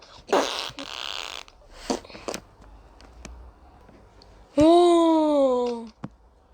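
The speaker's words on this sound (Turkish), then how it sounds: "Osuracağım valla" A cartoonish fart sound effect in the Melon Sandbox video game, a loud buzzing tone sliding downward for over a second, following scattered clicks and brief bursts of speech.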